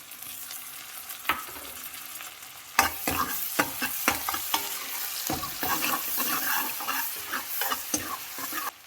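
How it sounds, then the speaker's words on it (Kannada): Ginger garlic paste hits onions frying in butter with a sudden sizzle, then a sustained crackling fry broken by repeated close scrapes and clacks of stirring in the pan. "ಇವಾಗ ಆ್ಯಡ್ ಮಾಡೋಣ ಜಿಂಜರ್ ಗಾರ್ಲಿಕ್ ಪೇಸ್ಟು."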